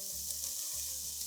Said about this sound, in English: And then we're going to put some onions in here.